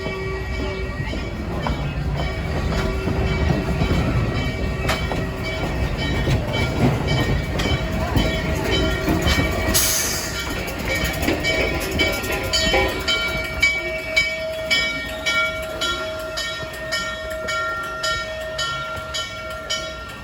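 The N&W 611 steam locomotive rumbles steadily past on the Strasburg Railroad as it runs around its train, with clanking and rhythmic wheel clatter, a brief whistle-like tone partway through, continuous and fairly close.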